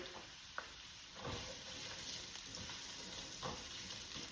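Steady sizzling of onions in a hot pan with a little olive oil, a continuous crackling hiss with occasional faint clinks and stirring noises, fairly close.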